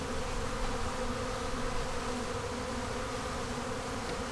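Honey bees buzz continuously around a hive, a dense, steady hum of many insects with no voices.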